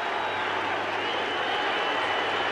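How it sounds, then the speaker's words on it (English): A baseball stadium crowd in Arlington roars steadily during a ninth-inning perfect game, a broad sustained cheer with applause mixed in, heard at a distance. "The crowd on its feet here in Arlington."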